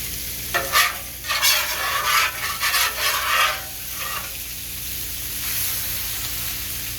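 Mexican pork burger patties sizzling and hissing as they hit a hot pan, a steady crackle with a few louder bursts early on that settle into a quieter, even fry.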